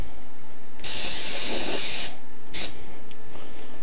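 An aerosol spray can hisses onto the circuit board of an Ensoniq ASR-10 sampler under repair: one loud, close burst of just over a second, followed shortly by a brief second puff.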